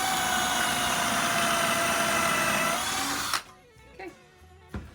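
Power drill boring a pocket hole into wood, a steady loud whine for about three seconds that stops abruptly, followed by quiet handling clatter.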